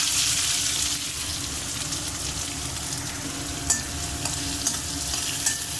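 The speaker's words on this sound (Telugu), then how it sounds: "ఇప్పుడు ఆనియన్స్ వేసుకుందామండి. 2 ఆనియన్స్ మీడియం సైజు." Chopped medium onions and cumin seeds frying in a pan for a curry, a steady close sizzle running throughout with a few light stirring taps and scrapes near the end.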